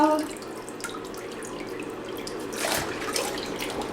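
Water running steadily from a bathroom sink tap while a face is washed with a cloth, a constant close splash with some added sloshing toward the end.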